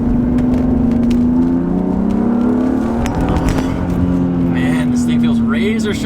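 A car with polyurethane subframe and differential bushings powers out of a roundabout, its engine note loud and close, rising and holding as it accelerates steadily from start to finish, with speech over it.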